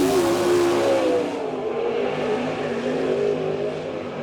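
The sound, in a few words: race car passing on lap at Port Royal Speedway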